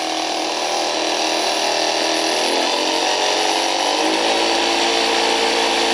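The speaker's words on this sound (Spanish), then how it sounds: "Más ancho el pulso, más velocidad tiene el motor." A DC motor under PWM speed control runs loud and close with a steady electric whine and hum, its pitch shifting as the speed is varied, without any voices.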